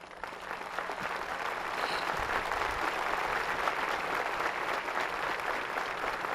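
Sustained applause from a large crowd at a Cuban political rally or official ceremony, steady and fairly loud throughout with no break.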